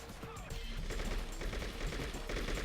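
AK rifle fire in True Crime: New York City, rapid automatic bursts crackling over a dense low rumble, fairly quiet and steady throughout, with faint game sounds mixed in.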